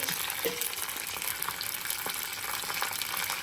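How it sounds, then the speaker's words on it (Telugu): Urad dal, chana dal, dried red chillies and roasted peanuts fry in hot oil for Rayalaseema-style lemon pulihora, giving a close, steady sizzle with light crackles and stirring scrapes and no speech. "వేరుశనగ గింజలు, వేయించిన వేరుశనగ గింజలు వేసుకొని బాగా వేగనివ్వాలి"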